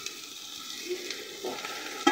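Spices and ground ginger paste stirred into vegetables frying in a little oil for a Bengali fish curry, with a soft continuous sizzle, scraping stirs and a sharp clink of the utensil near the end.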